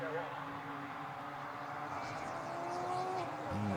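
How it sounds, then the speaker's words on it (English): Radical race cars accelerate as a tight bunch around Snetterton circuit, their engines a distant, steady droning whine rising in pitch beneath continuous commentary. "Cars pushing through, all running as a tight bunch."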